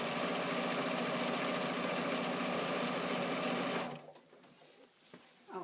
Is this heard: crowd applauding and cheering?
no